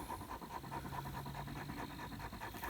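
A dog pants close by outdoors in autumn woods, rapid rhythmic breaths repeating evenly at a soft level, with no talk during it.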